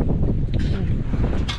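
Strong wind buffets the microphone on a fishing boat out at sea, a steady, loud, gusty roar with brief flaps and rustles. Muffled voices can be made out beneath it.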